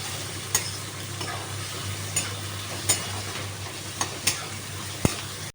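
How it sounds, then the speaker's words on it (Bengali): Fried potatoes and coconut stirred through tomatoes in a pan for chana dal, a steady soft sizzle with a handful of sharp spoon scrapes and taps against the pan spaced irregularly. "এবার আমি আলু আর নারকেলটা যে ভেজে রেখেছিলাম এর মধ্যে দিয়ে দেবেন, দিয়ে এটা নাড়াচাড়া করবেন"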